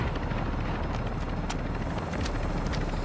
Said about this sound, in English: we have an exfil chopper that we can't use